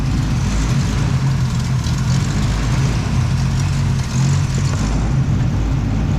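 A 1964 station wagon's engine idles with a steady, low, rumbling drone, close and continuous with no talk.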